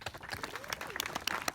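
Scattered audience applause at a community event for a Miracle League ballfield, a thin, uneven patter of claps at moderate distance with faint crowd noise.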